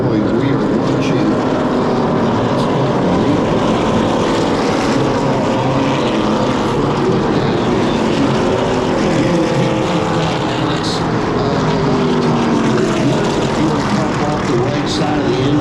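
Race car engines roaring loud and continuous through the Hard Rock Bet 200, a dense steady drone with commentators talking over it throughout.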